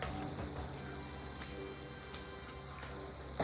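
Ham slices and onion sizzling on a hot Blackstone griddle, a steady broadband frying hiss with faint crackles throughout, close and continuous, with no talking.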